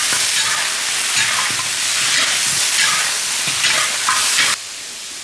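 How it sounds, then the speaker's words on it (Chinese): Chicken pieces stir-fried with star anise in a big wood-fired pot, a loud continuous sizzle and hiss with scraping stirs throughout, stopping abruptly near the end, close and without talking. "大料炸香，我们放入鸡块，把鸡块的水分给它煸炒干"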